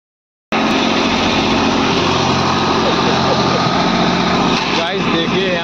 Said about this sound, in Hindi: अपना मशीन और ट्रैक्टर ही बस आया है लोडिंग करने के लिए